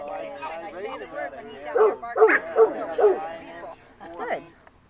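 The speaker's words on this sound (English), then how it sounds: "Good bark." During schutzhund training, a working dog lets out a run of sharp, close barks and yips in a short burst while a handler talks over and between them.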